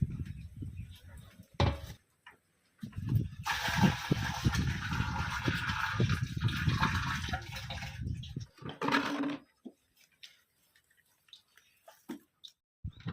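Water is poured into a tank while a jaggery bio-fertilizer solution is mixed: a few brief bumps, then a steady rushing pour lasting about six seconds, followed by quieter knocks and splashes near the microphone, with no speech.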